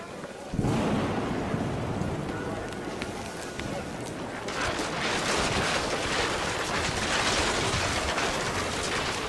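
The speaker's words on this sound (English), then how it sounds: "The rain came down in buckets then" Heavy rain in the video game What Remains of Edith Finch pours down steadily and grows noticeably louder partway through, with low rumbling beneath the downpour.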